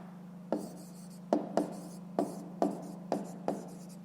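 Pen writing on paper in a quiet room, a series of about seven short, distinct scratchy strokes at uneven intervals over a low steady hum, with no talk.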